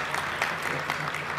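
Brief, fairly faint audience clapping at a tech conference interview session, a scattered patter of hands over a low hum of room noise.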